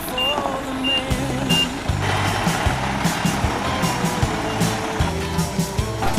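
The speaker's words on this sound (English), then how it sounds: "Unload the truck, load it back up again." A truck reverses while being unloaded, its backup alarm beeping in a regular repeating rhythm over a low engine rumble and the clatter of nearby work.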